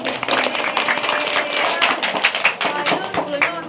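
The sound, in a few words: audience applause for Pak Wahyu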